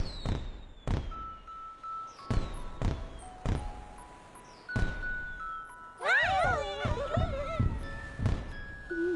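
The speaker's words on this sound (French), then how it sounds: "Il y a des feux d'artifice à la fête de la cuisine!" Cartoon fireworks at a castle festival: a series of sharp pops and bangs with rising whistles and sparkling chimes, spaced irregularly, then a dense cluster of twinkling bursts.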